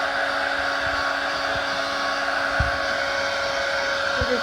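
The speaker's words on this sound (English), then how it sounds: "she's using the hot hair dryer to pull off the adhesive, make it unsticky." A hot hair dryer blows steadily while loosening the adhesive of a motorcycle tank pad, giving a constant, close, whirring airflow with a faint tonal hum and a few soft knocks and handling bumps underneath.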